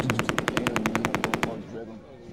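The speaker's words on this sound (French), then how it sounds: "C'est une mitrailleuse qui s'approche de la pointe." A machine gun fires a rapid steady burst of about fifteen evenly spaced rounds, loud and close, then breaks off into a fading echo and quiet background.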